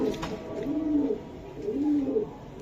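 Racing pigeons coo close by, two soft, rolling low coos in a row, each rising and falling, with little else around them.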